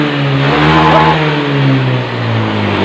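A Honda Beat FI motorcycle engine revs hard and holds high during a throttle test, loud and close, the pitch sagging slightly before climbing again.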